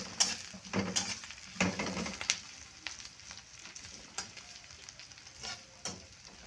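Leftover dish being stirred into frying onions in a pan: sizzling throughout with repeated scraping knocks of a utensil against the pan at an irregular rhythm, close and fairly loud.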